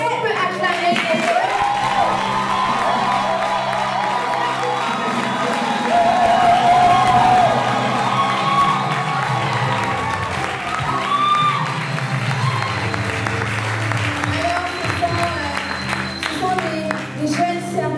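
Church congregation at a Sunday service in Nantes cheering and applauding special guests, a sustained crowd roar with clapping that swells and holds for several seconds amid voices and background music.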